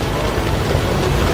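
Rain falls outdoors on a hillside as a loud, steady wash of dense hiss, with no voices over it.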